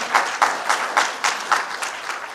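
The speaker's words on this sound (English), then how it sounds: "let's give him a round of applause" Audience applause at a law school event with the governor, continuous clapping with a few louder, rhythmic accents pulsing through it.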